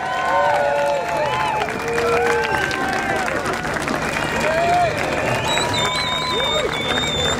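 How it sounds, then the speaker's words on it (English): A rally crowd applauds and cheers National Gallery strikers at a PCS union rally, sustained clapping and whoops filling the space, with voices calling out over the din. "let's give them a really good round of applause"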